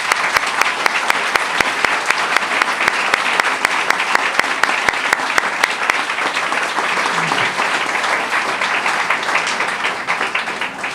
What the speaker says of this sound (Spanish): la aplaudan, porque realmente se merece un aplauso